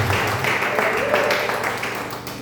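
Church congregation clapping together in worship, a thick, steady burst of many hands that fades slightly toward the end.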